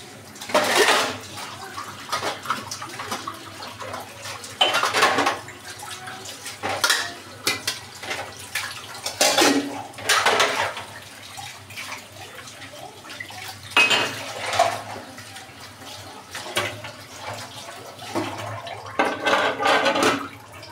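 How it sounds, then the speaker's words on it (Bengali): Dishes, pots and plates are washed by hand under running water in a home kitchen, with repeated clattering of metal and ceramic over a steady splash, coming in irregular bursts close by with no talking. "থালাবাটিগুলো ধুয়ে নিই,"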